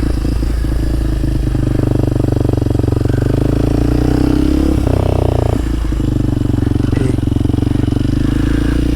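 A Kawasaki KLX 230SM motorcycle on new tires rides tight figure eights, its single-cylinder engine droning loud and steady with small rises and dips in revs as it leans through the turns.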